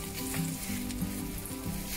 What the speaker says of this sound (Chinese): 就系咁用慢火煎